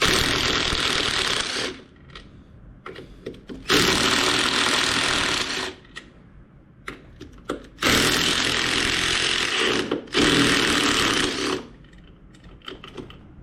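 A power tool removes screws on a 2024 Harley-Davidson Road Glide, giving several loud whirring bursts of a few seconds each, close up, separated by brief pauses and faint clicks.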